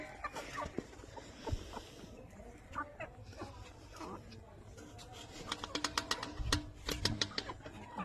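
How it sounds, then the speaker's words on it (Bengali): A flock of mixed chickens, local and poultry breeds, clucks and calls while trailing someone for food outdoors, a busy scatter of bird sounds rising toward the end. "দেখো কত মুরগি।"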